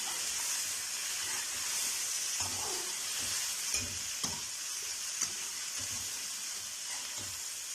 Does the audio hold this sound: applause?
no